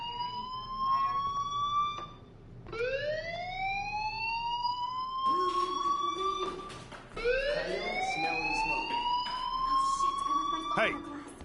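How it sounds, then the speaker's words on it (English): A wailing fire alarm in the video game Life Is Strange rises and falls in repeated siren sweeps, fairly loud and continuous, with a voice speaking intermittently underneath. "Hey, do you hear that fire alarm? That means you should be outside."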